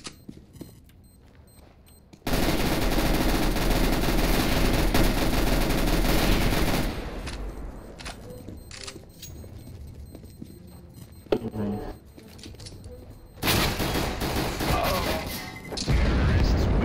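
Rapid bursts of automatic rifle fire in Counter-Strike: Global Offensive crackle loud and close in long sustained volleys, separated by quieter gaps with footsteps and game effects.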